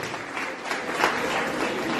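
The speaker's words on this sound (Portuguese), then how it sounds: "Levante um aplauso de mutualidade ao Senhor." A congregation at a Sunday church service applauds: a dense, steady wash of clapping that carries through a short stretch without a pause.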